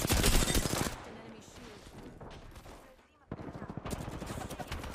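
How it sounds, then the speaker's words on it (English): Gunfire in the Apex Legends video game, a close burst of rapid automatic shots, then a quieter stretch of distant firing, a near-silent gap and another run of rapid shots. "Why are you shooting at me?"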